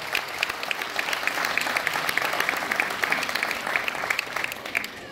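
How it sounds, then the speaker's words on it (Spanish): Steady applause from an audience at a Christmas basket giveaway event in Tierra Blanca, continuous dense clapping holding at an even level throughout, with no voices above it. "Fuerte el aplauso para él"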